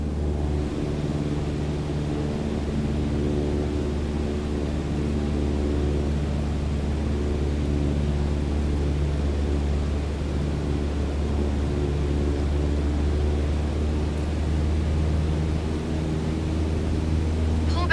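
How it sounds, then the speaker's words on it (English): A light airplane in Microsoft Flight Simulator 2020 held at full throttle while climbing, its engine a constant loud drone with a steady hum throughout, unchanging for the whole stretch. "go full throttle and start climbing"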